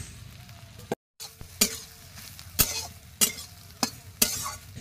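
Soybean chunks dropped into potatoes frying in a pan, giving a faint steady sizzle with several sharp stirring clacks of a spoon against the pan, with no talk.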